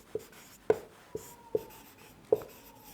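Chalk or marker writing on a board during a maths lesson, five sharp taps and short strokes spaced about half a second apart, close and clear in a quiet room.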